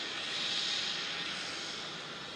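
A jet airliner takes off on runway 16 at Melbourne Airport, its engines making a loud, steady, broad roar that swells slightly and then holds for a few seconds.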